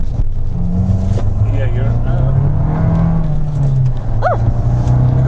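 An Abarth 695 Rivale's engine revs while driving, its note climbing and falling through gear changes, loud and close from inside the cabin, with people talking over it.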